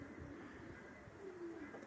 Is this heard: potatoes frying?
no